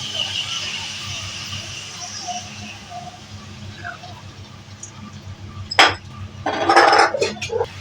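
Broken wheat (dalia), roasted and washed, tipped into a cooking pot of khichdi over a quiet background hiss, with a sharp clink and a short burst of pouring and rattling near the end.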